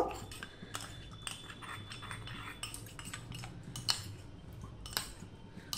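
A spoon clinks and scrapes against a bowl while cornflour is stirred into a little water, producing irregular light metallic taps close by with no talking.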